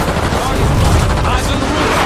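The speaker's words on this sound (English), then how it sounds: "Fire at will." Dense, continuous gunfire and explosive booms from a battle in the video game Call of Duty Black Ops 6, a loud sustained fusillade filling the whole stretch with a voice faintly mixed in.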